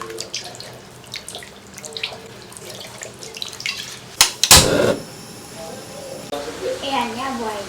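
Tap water pours into a pot to cook sea snails, a sharp splashing rush midway over kitchen clatter, with people talking throughout.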